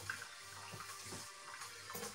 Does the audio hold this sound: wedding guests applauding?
no